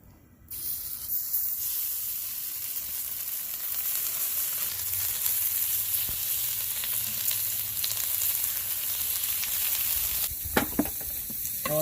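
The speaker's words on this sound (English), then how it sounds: "I'm going to go ahead and get this bacon going" Bacon fries on a griddle top over medium heat on a Camp Chef Explorer 2X double-burner stove, a loud, continuous close sizzle and hiss with a few clatters toward the end.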